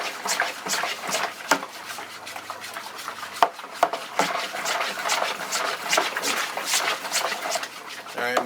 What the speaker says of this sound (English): Continue to stir until you don't see any solid pieces.